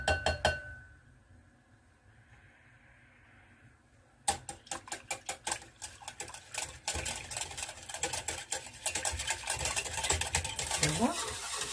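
A homemade yogurt mixture is stirred in a bowl. After a few quiet seconds, rapid, rhythmic clinking strokes start and grow busier and louder, with a utensil scraping and tapping against the container.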